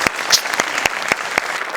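Audience applause at a Marathi comedy show, a short burst of clapping that is fairly loud and close, with sharp separate claps standing out above the crowd.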